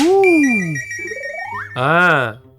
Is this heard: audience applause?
no